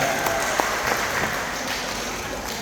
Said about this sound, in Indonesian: Tepuk tangan untuk kita, ya.